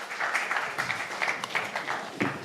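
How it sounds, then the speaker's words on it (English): A group gives themselves a round of applause at a diplomatic gathering: a steady patter of many hands clapping at moderate distance, with faint voices mixed in. "I suggest we all give ourselves a huge clap"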